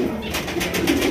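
Fancy racing pigeons at a pigeon market cooing up close, repeated low throaty coos in a steady pulsing rhythm, with no talk over them.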